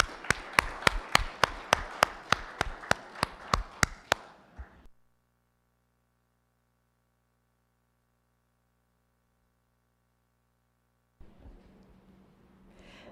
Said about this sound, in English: Please let us give her a round of applause.